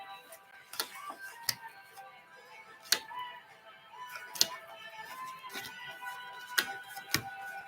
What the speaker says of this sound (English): I'm actually going to shuffle them face up.